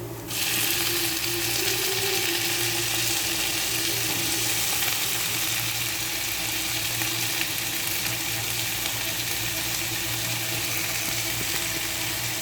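Onions and tomatoes sauté in a pan with a steady, loud sizzle and frying crackle that runs unbroken throughout, with faint stirring clicks and no talking.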